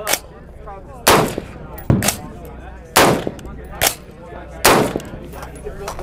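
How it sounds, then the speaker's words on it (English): A Fox straight-pull, non-semi-automatic AR rifle fires six loud, sharp shots over about six seconds at an uneven but fairly quick pace, each crack ringing out briefly before the next, with nobody speaking. "if I'm right here, I can just fire."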